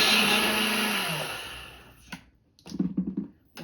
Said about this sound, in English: we're going to put our oats in there and we're going to grind them into oat flour